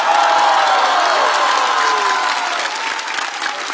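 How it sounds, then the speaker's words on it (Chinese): A live show audience claps for the performers, dense loud applause at full strength then easing slightly toward the end, with a few whoops mixed in. "我们再次把掌声送给今天优秀的表演者们"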